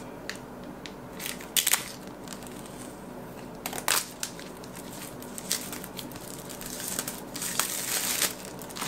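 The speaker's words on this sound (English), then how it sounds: "So I'm just gonna go ahead and unwrap this." Packaging for an Apple Watch SE with space gray aluminum case and black sport band being unwrapped, close crinkling and tearing of plastic film in irregular bursts, with no voices.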